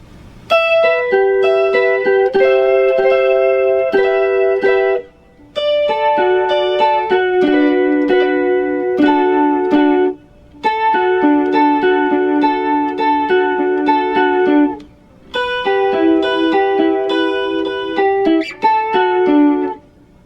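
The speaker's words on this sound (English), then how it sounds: "During the bridge, a second guitar with a chorus effect on it comes in," Electric guitar with a chorus effect playing the bridge part of a song, loud and up close in four chordal phrases separated by brief pauses, with no talking.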